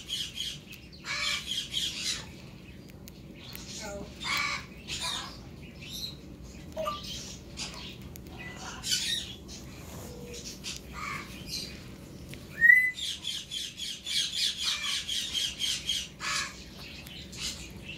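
A baby parrotlet and a baby lovebird squawk and chirp indoors in repeated short bursts, a few sharp calls rising louder near the end, with quiet gaps between them and no talking.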